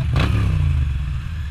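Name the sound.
Moto Guzzi V9 motorcycle engine running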